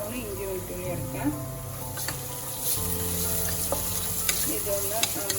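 Ginger and garlic sauté in a pan for mutton curry, with a steady close sizzle and occasional scraping stirs running throughout.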